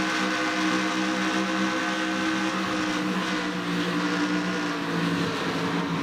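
A race car engine roars from the onboard camera during a Craftsman series race in Texas, holding a loud, steady drone with slight pitch wavers throughout and no voices.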